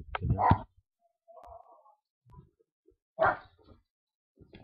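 A few faint dog barks and yips sound indoors, separated by stretches of near silence, with one stronger bark near the middle.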